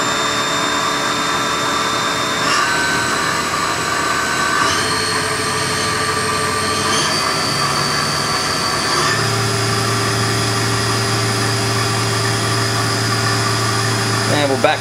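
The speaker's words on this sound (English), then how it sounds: "Got the spindle warming up." Haas VF-3 vertical milling center spindle running at speed, a steady high machine whine with tonal lines that step upward in pitch a few times as the spindle speeds up, loud and continuous with machine hum underneath.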